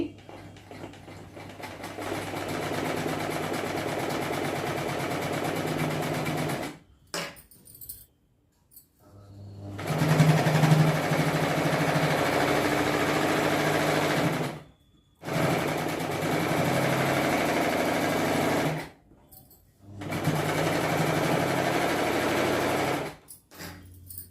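A sewing machine stitches cloth piping in long, steady runs of rapid, close mechanical whirring, stopping several times with short gaps and faint handling noises between runs.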